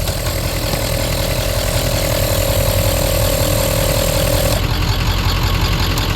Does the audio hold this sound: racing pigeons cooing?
no